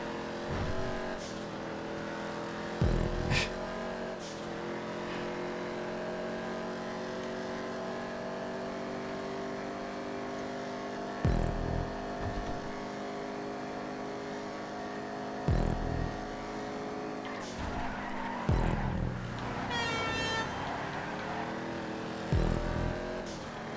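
Race cars in GTA 5 lapping a city street circuit: a sustained, layered engine drone from several cars with gear shifts and brief revving surges, punctuated by short sharp knocks and bursts at intervals.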